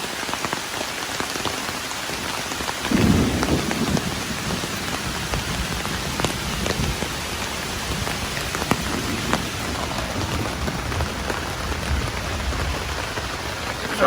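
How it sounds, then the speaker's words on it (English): Heavy rain pours steadily on a tent at a campsite during a motorcycle camping trip, a dense continuous hiss of drops drumming close on the fabric with a brief louder burst near the start and no voices. "Well, it's raining again. It is pouring down."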